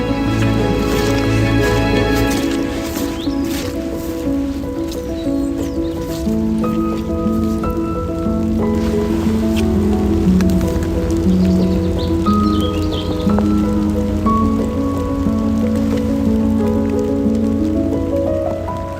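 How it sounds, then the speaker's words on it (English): Steady rain patters on leaves along a woodland path, a dense continuous hiss of drops with a faint low hum and the odd bird call underneath. "As the rain starts to fall, the leaves really come to life along the path where I'm walking."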